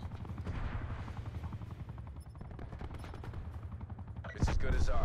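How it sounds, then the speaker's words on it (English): Enemy players' gunfire in a video game, rapid rattling automatic shots at moderate distance under game voices, ending with a louder burst of close fire. "your boys are shooting at me for no fucking reason"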